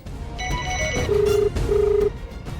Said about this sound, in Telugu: స్వర్ణ ఏంటిది ఇప్పుడు ఫోన్ చేస్తోంది?